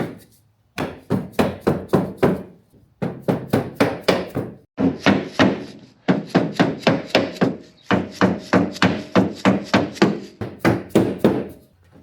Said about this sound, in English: now dead blow hammer